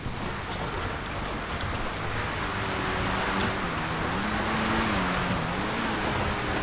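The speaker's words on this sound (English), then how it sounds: "Take the B-Team van. It's probably faster than a Lamborghini." The B-Team van from GTA Online drives along with a steady, low engine hum and broad road and wind noise, rising and falling gently in pitch throughout.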